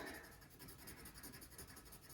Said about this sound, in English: make a little shading strip that goes from black to any color you choose